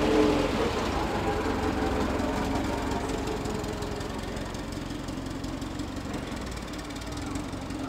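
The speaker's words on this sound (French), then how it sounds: "on entend bien le tramway derrière" A steady low rumble of a tram rolling by in the background, mechanical and continuous, slowly fading slightly over several seconds.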